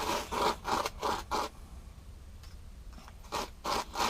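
Black sand is scooped for gold panning, with a run of soft gritty scraping strokes, a short pause, then two more scrapes, all close and fairly quiet.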